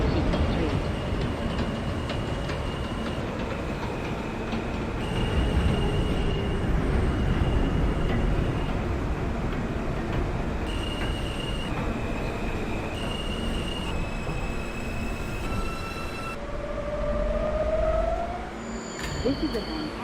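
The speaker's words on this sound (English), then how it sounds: "This is a Manhattan-bound J local train." An R160 subway train on the J local line in the OpenBVE train simulator rumbles steadily along with rail noise and motor whine, with short tonal electronic beeps and a rising whistle-like tone near the end.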